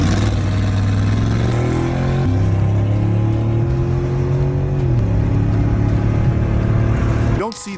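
A suspect's car pulls away hard from a police traffic stop, its engine loud and close, rising and shifting through steady revving tones over several seconds before the sound cuts off abruptly.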